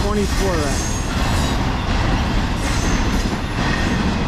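A rare Norfolk Southern triple-elephant freight train, 22X, rolling by at about 50 mph with 192 axles, a loud, close, steady roar of wagons and rumbling wheels that fills the whole stretch, with a brief high wheel squeal at the start.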